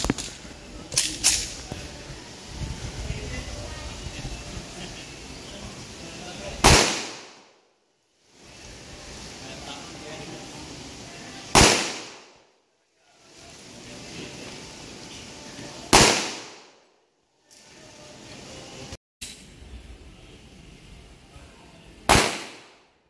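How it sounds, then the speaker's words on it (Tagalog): Rifle shots ring out while iron sights are zeroed at 5 meters. Four or five sharp, loud cracks come several seconds apart over a hissy background. "Firing."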